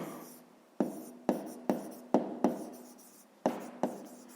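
A pen writes numbers by hand on paper in short, distinct scratchy strokes, about nine taps and scrapes in an uneven rhythm, close and clear with no voices.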